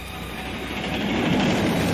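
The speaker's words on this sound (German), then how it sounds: "Das ist ein Zug." A subway train rumbling past in a New York audio drama, a steady dense roar with metallic rail rattle that swells slightly louder toward the end, with no voices over it.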